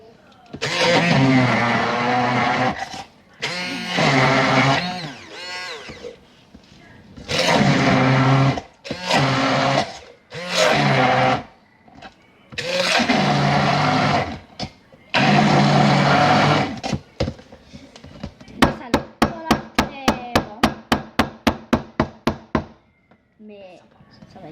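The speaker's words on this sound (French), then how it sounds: "Maintenant, on a tout fait avec le chose à mélangeur." A blender blitzes a hot chickpea dip in repeated pulses of a few seconds each, separated by short pauses, then ends in a rapid sequence of brief clicking bursts; no one talks.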